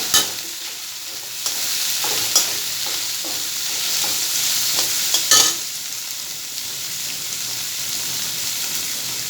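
Chopped onion sizzles and fries in a pan with lati fish while being stirred, a steady hiss with repeated scraping stir strokes and a few louder clatters, close and with no talking.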